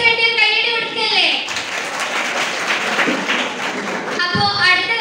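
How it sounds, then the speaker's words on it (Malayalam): An audience at a tuition centre's last-day gathering claps for a teacher in a burst of applause lasting several seconds, with a speaker's amplified voice before and after it. "ടീച്ചർക്ക് വേണ്ടി കൈയടി കൊടുക്കല്ലേ."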